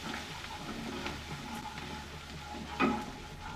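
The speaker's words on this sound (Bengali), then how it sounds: "মিক্স মশলাটা ভালোভাবে ভেজে নেব আদা রসুনের সঙ্গে।" Mixed spice frying with ginger and garlic in a pan, a soft steady sizzle with a sharper scrape of stirring near the end, no one speaking.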